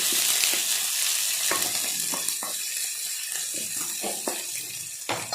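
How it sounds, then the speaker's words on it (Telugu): Onion and cabbage frying in hot oil for masala Maggi, a loud, continuous crackling sizzle close by, broken by stirring scrapes, with no talking. "ఆయిల్ వేడెక్కింది కదా, ముందుగా ఆనియన్, క్యాబేజీ,"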